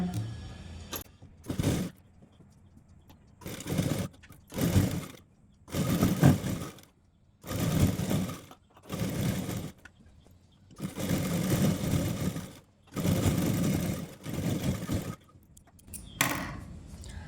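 A sewing machine stitches a pillow cover made from old cloth, running in about eight short, steady bursts separated by brief pauses, close and moderately loud with no talking.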